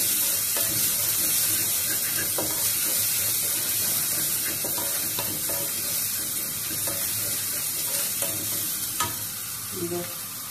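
Garlic sizzles in oil in a pan for a Bengali dry fish chutney, with a steady close frying hiss, occasional stirring scrapes and faint clinks, no talking.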